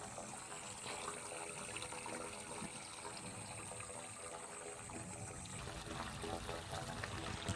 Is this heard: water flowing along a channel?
yes